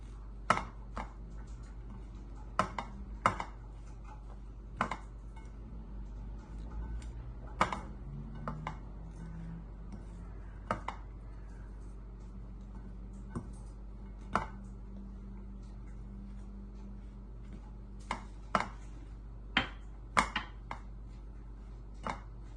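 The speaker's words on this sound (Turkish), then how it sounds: "Pudra şekeri ve hindistan cevizini de. Şöyle karıştırıyorum." Soft scraping and sharp taps of a spoon stirring powdered sugar and coconut into crumbled leftover cake in a bowl, irregular clicks against the bowl over a low steady hum, no talking.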